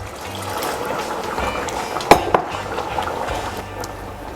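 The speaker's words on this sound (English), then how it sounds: "Just gonna add some water." Water pours into a cooking pot of curried pumpkin and chard, a bubbling, trickling rush with a couple of sharp clanks against the pot partway through.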